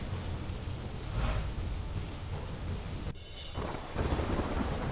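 Steady heavy monsoon rain pours down in a dense wash of noise, with a brief dip and then a louder surge near the end.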